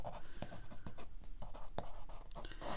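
A brown watercolor pencil scratches over paper in quick, irregular strokes, close and crisp, with sharp ticks where the tip lands, and no talking.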